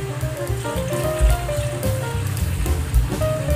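Water splashes and patters as it is poured into a pot of pinakbet, an Ilocano vegetable dish, cooked the traditional way, a close, continuous splashing with irregular bubbly bursts.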